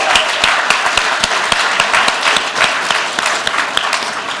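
An audience at the IDEA Con 2023 Ignite Talks applauds the host in sustained, dense clapping with sharp individual claps standing out, loud and steady throughout with no talking.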